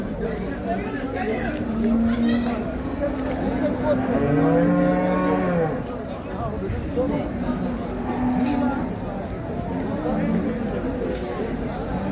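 A cow moos loudly in long, harmonic calls at a busy livestock market, with several moos spread across the clip over steady crowd chatter and someone talking nearby.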